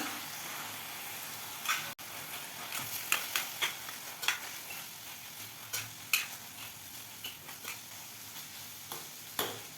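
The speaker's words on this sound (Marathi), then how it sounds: "टोमॅटो हलकेसे मऊ झाले की त्यामध्ये भाजलेल्या शेंगदाण्याचा कूट घालायचा, छान असं मिसळून घ्यायचा" Roasted crushed peanuts being stirred into softened tomatoes for a spicy tomato chutney: irregular scraping and clinking strokes of a spoon against the pan over a soft, steady sizzle, close and moderately loud, with no talking.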